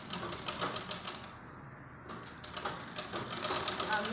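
A sewing machine stitches in quick rhythmic bursts while hemming the bias-bound round neck of a butterfly gown, pausing briefly midway before resuming, close and fairly faint.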